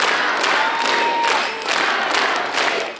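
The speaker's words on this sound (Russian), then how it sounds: "Заслуженные аплодисменты." Audience applauding touring circus performers after a show, a dense steady crowd clapping with some cheering, loud and sustained throughout without talk.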